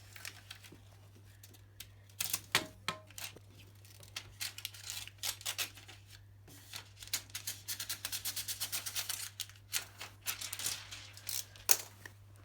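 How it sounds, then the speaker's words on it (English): A blade cutting window tint film along a frame edge while a card is held against it: scattered sharp clicks and scraping rasps, then a quick run of rhythmic slicing strokes over a steady low electrical hum. "cut into the tint, and then we can run it across"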